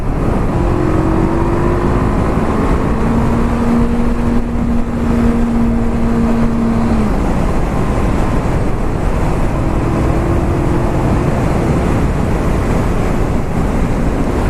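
Honda CB500F motorcycle engine pulling hard while overtaking on the road, a loud continuous drone rising in pitch through the gears, heavily buffeted by rushing wind noise throughout.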